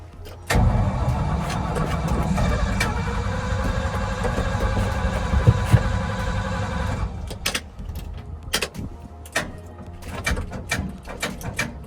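A worn-out starter cranks a 1979 Ford F700 dump truck with a 12v Cummins swap in one long, loud, steady grind for several seconds, then it cuts off and sharp clicks and knocks follow.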